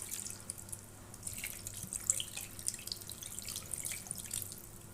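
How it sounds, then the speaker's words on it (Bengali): Water is poured into a bowl of hand-mashed lentils seasoned with coriander leaves for makha dal, a soft, faint trickle and drip running steadily throughout. "ডালটা সিদ্ধ হয় এরকম পরিমাণ জল দিব।"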